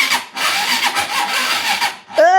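Honda CBR 150 motorcycle with a weak battery being started: a strained, grinding starter motor cranks for about two seconds before the engine briefly catches with a loud rising note at the end.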